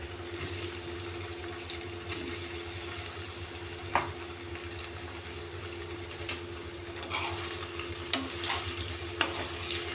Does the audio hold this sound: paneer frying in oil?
yes